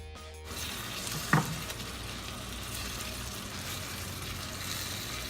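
Meatballs frying in a hot pan with thyme, a steady close sizzle and hiss throughout, with one brief sharper splash and crackle as a piece goes in early on.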